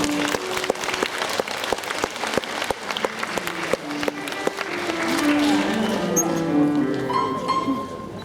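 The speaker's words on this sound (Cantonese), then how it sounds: "請以掌聲鼓勵獲獎嘅同學。" Applause for award-winning students at a primary school graduation ceremony in Tuen Mun, a steady hall-wide clapping that fades as the event moves on, with a faint voice and a brief tone near the end.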